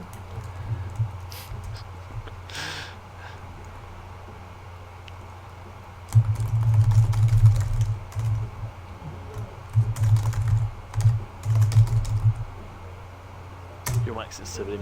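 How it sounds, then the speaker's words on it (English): Computer keyboard typing picked up by an overly sensitive microphone during an online game's pause, heard as dense bursts of soft, low clattering keystrokes in the foreground with a brief gap before resuming, with no talk over it. "Your mic sensitivity might just be a tiny bit too high because you can hear typing."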